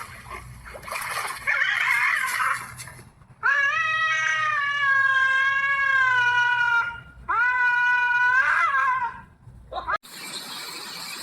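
A cat meows loudly and close by in several long, drawn-out, wavering calls, one after another, with short pauses between them and a burst of noise at the end.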